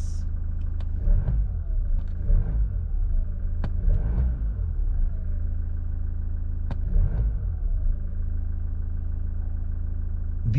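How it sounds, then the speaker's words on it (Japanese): A Mazda CX-30 diesel engine idles with a rough, gravelly, steady rumble, rising smoothly in a few brief revs spaced a couple of seconds apart. "少しアクセルを吹かしてみようと思います"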